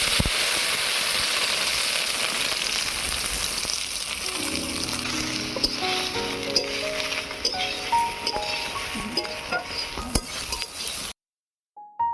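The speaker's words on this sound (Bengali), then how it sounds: "এবারে সয়াবিনগুলো ভেজে নেব।" Soybean chunks fry in white oil in a pan, with a steady loud sizzle and crackle running throughout, a few light clinks of the utensil near the end, then a sudden cutoff into near silence.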